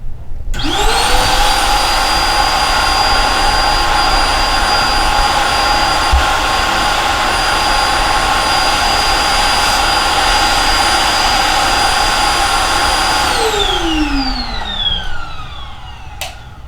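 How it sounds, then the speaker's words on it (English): A Riccar R40P vacuum cleaner with attachments whines steadily at close range for most of the stretch, then its motor winds down and fades near the end. "Let's turn the vacuum on."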